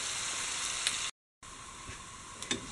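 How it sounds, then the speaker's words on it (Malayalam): Sliced onions fry in hot oil for a Kerala-style beef fry, giving a steady close sizzle with a few soft scrapes as they are stirred toward golden, broken by a brief silent gap. "ഇളക്കി കൊടുത്തിട്ട് ഗോൾഡൻ കളറാകുന്ന വരെ ഇളക്കി കൊടുത്തുകൊണ്ടിരിക്കുക."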